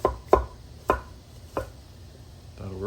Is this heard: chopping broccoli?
yes